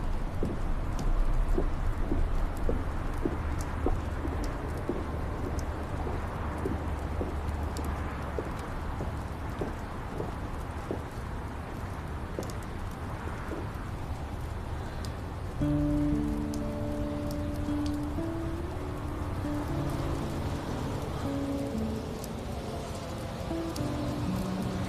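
Steady rain falls and patters on surfaces around an outdoor pavilion, a continuous soft hiss with scattered drips, while a pigeon coos faintly in the background.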